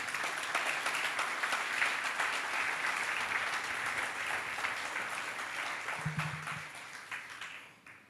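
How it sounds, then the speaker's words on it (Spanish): Church congregation giving applause to the Lord, a sustained even clatter of many hands that carries on for several seconds, thins out and fades at the close, with a brief low tone near the end. "Denle un aplauso al Señor"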